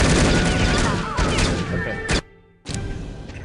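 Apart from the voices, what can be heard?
gunfire in the video game No One Lives Forever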